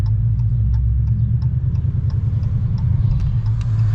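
A Dodge Challenger 6.4L Scat Pack exhaust with Spintech 9000 Prostreet mufflers rumbles steadily at idle, a deep, throaty, even drone with faint ticking above it, close and loud.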